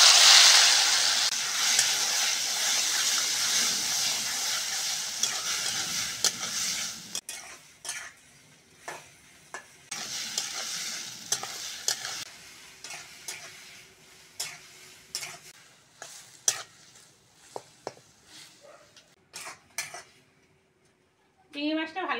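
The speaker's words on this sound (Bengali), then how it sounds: "তেল গরম হয়ে গেছে, লবণ হলুদ মাখানো চিংড়িটা দিয়ে দেবো।" Shrimp coated in salt and turmeric hits hot oil with a loud, steady sizzle for about seven seconds, then frying continues more softly under scattered clinks and scrapes of a utensil in the pan.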